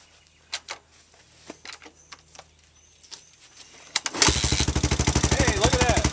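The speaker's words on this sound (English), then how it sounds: "It does require a couple of kicks at least to get going, just because there's so much compression." Several kicks at a motorcycle's starter make clunking knocks before the engine catches and bursts into a loud, rapid, popping run close by; a voice speaks early on.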